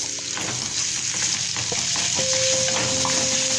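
Minced beef and tomato frying in a hot pan, a loud continuous sizzle with occasional scrapes and clinks from stirring, heard up close and without speech.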